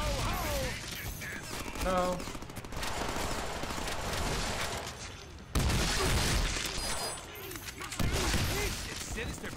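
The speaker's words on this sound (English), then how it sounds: "Now I have a machine gun." A machine gun fires in the Deadpool video game, bursts of rapid gunfire and booms mixed with game effects, while a player talks over the action.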